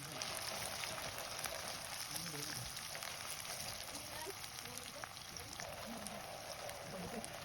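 Anchovies (dilis) fry in a little oil, giving a faint, steady crackling sizzle throughout.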